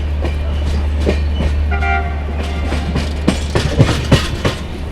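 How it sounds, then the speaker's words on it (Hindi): Loud, continuous rumble of a passenger train running at speed while overtaking the Pawan Express, with steady low drone, a brief horn-like tone in the middle, and sharp rail clatter and clicks toward the end. "सामने देखो ओवरटेक मार रहे हैं हम पवन एक्सप्रेस को भी"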